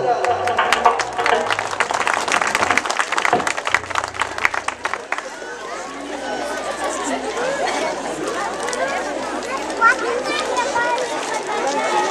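Applause from a crowd at a village festival welcoming fifth-grade children, rapid clapping mixed with children's chatter that fades into a busy murmur of voices and movement.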